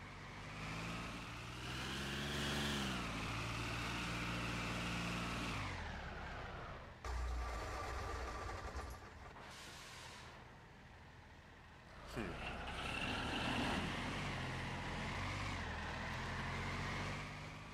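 Tractors rumble through Workers & Resources, droning engines rising and falling in pitch as they pass, with brief hissing bursts and a lull in the middle, fairly loud and continuous.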